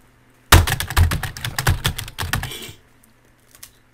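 Rapid typing on a computer keyboard, a quick burst of close, crisp key clicks and thumps lasting about two seconds, then near silence with one faint tap at the end.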